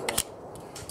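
A Glock 42 pistol magazine pops free on release: a couple of sharp, brief metallic clicks and a light clatter, close and fairly quiet, with no one talking.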